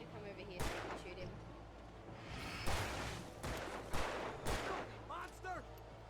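Gunfire in the Alan Wake video game: several sharp shots burst out in a loose cluster over a low, steady background hum, with no talk during the shots.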